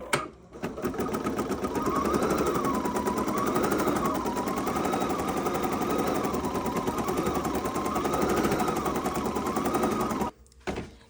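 An embroidery machine stitches through flex foam in a hoop. The rapid, even needle rhythm chatters steadily and loudly for about ten seconds, then stops abruptly.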